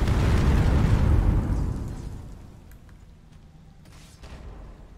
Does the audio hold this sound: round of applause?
no